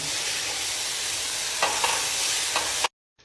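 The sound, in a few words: mixing grilled eggplant with paprika, curry spice and salt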